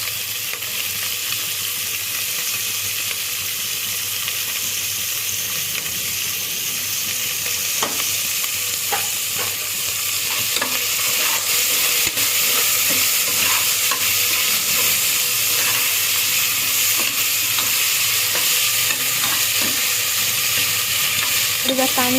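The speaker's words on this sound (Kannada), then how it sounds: "ಒಂದು ಕ್ಯಾಪ್ಸಿಕಮ್ ಅಷ್ಟೇ, ತೀರ ಫ್ರೈ ಆಗೋದು ಬೇಡ, ಸ್ವಲ್ಪ ಒಂದು ಮೆತ್ತಗಾದರೆ ಸಾಕು." Capsicum fries in a pan, lightly softened rather than browned, while it is stirred again and again. A loud, continuous sizzle carries repeated scraping and clinking of the spatula, close up and with no voices.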